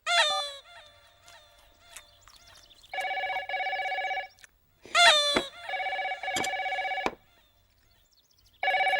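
A telephone rings in repeated loud electronic bursts with short pauses between them, heard alongside brief squawking and clucking sounds in an indoor comedy scene.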